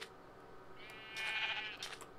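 Sheep bleating in the Minecraft video game: one clear, wavering bleat that rises and then fades, sitting over a low background hum, with a brief short bleat near the end.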